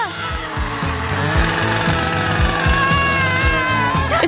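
A saw cuts with a loud, steady buzzing grind and rapid repeating strokes, continuous for a few seconds with slight pitch shifts.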